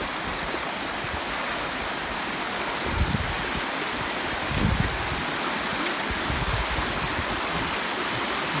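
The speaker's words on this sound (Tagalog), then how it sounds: "Malakas na ulan gawa ng bagyo." Steady, heavy typhoon rain in Tuy, Batangas, Philippines roars without pause, a dense wash of water noise with a couple of brief low thumps partway through.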